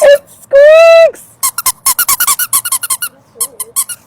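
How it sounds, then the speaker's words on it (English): A squeaky fillable fabric item is squeezed, giving one long, loud, wavering squeak followed by a rapid string of short squeaks close up, with an excited voice mixed in. "Oh my god! It squeaks!"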